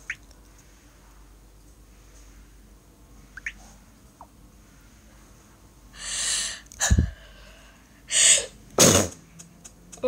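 A person sneezes several times in quick succession after a quiet stretch, each sneeze a sharp loud burst close to the microphone, separated by short breaths.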